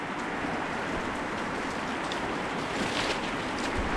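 Steady rain pours outdoors at a lakeside spot, a dense, even hiss of drops striking water and surfaces that stays loud and constant throughout with no talking.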